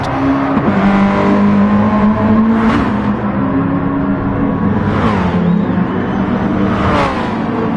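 A race car in a MaX5 series race brakes late into the first corner. Its engine roars close and steady, with pitch dropping on downshifts and then climbing again as it holds the revs.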